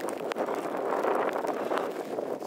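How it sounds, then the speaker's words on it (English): Wind gusting across an open hilltop beside the Fyrish Monument in Scotland, a steady close rush buffeting the microphone for a couple of seconds, with no one speaking. "Here's the wind."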